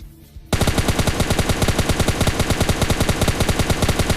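Rapid automatic gunfire in the video game PUBG Lite bursts in after a brief quiet moment and keeps going as a steady, loud stream of shots. The shots come evenly spaced and close up, and no one talks over them.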